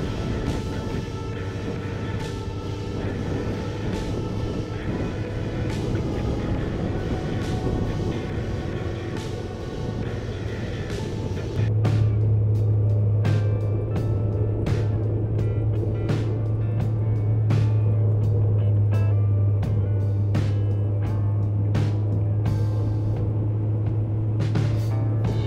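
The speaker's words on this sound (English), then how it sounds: "this bike is handling a lot better" Kawasaki ZZR1200 motorcycle ridden on open roads, its engine droning steadily with a rise in pitch and load partway through, wind buffeting heard throughout, no talk.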